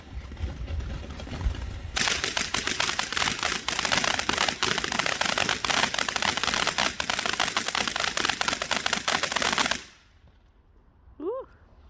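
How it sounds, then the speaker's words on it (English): Back-garden fireworks on Bonfire Night crackle and pop in a dense, loud barrage of rapid bangs that stops abruptly, leaving near silence with a brief high whistle at the end. "Was that a smoky firework?"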